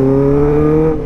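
A 2008 Suzuki GSX600R K8 motorcycle engine revs in a short, loud, close burst, a steady buzzing tone that drops away near the end.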